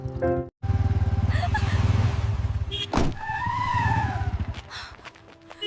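A motorcycle engine revs loudly and unevenly close by, cuts out briefly, then surges again, with a sharp screeching skid midway and engine noise continuing to the end.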